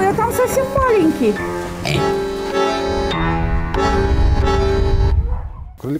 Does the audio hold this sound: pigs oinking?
yes